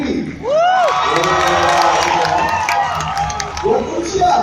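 An audience at a student ambassador pageant in Aceh breaks into loud, sustained cheering, shouting and clapping after a short lull, with an announcer's voice mixed into the crowd noise.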